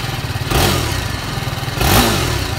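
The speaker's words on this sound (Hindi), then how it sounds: "तो अब मैं आपको गाड़ी का इंजन का साउंड सुना देता हूँ" Used Yamaha R15 motorcycle idling at a secondhand bike shop in Bareilly, a steady close, loud engine chug with two brief throttle blips swelling the exhaust note, no talking.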